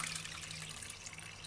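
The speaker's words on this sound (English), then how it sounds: "Rinse rice 2 or 3 times until it's clean like this." Water swishing as bulgur and rice are rinsed in a cooking pot, a steady close watery wash running without pause and no voices.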